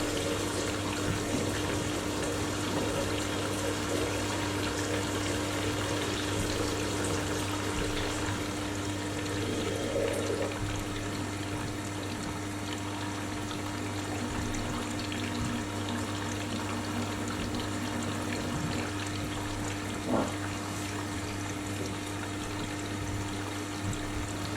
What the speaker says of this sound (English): I've just cleaned my sink out with Mr. Muscle, so flushing it out.